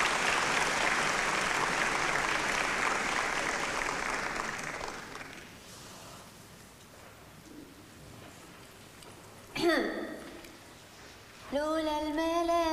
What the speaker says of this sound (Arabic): تشجيع يا جماعه